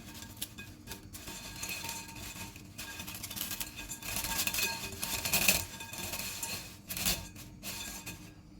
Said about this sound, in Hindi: सेव को थोड़ा सा तोड़ लेते हैं